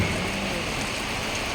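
Steady rain pours onto an open school parade ground during a passing-out ceremony, a dense, even hiss of drops on the surface that holds constant throughout, with no voices.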